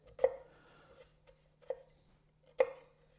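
A thin K-tip kitchen knife chops through a shallot on a board, giving three sharp, distinct strikes with lighter taps between them, close up in a quiet room.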